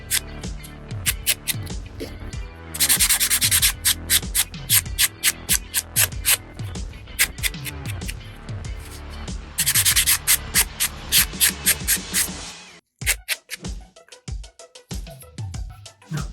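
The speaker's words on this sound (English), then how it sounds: "buff the edge again to make sure I get rid of any of the snaggly edges" A nail buffer rubs back and forth along the edge of a fingernail, making a close, rhythmic scratchy sanding sound in quick repeated strokes. Denser stretches of buffing are broken by short pauses.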